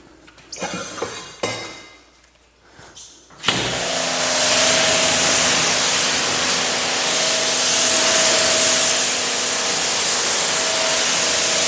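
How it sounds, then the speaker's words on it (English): A pressure washer sprays water in a loud, steady hiss that starts abruptly after a few seconds of quieter handling noises and continues unbroken. "Turn this off."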